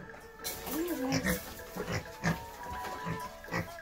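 Several short, low grunts from pigs at feeding time come in bursts over a steady farmyard background, fairly close, with a squeal-like rise near the start.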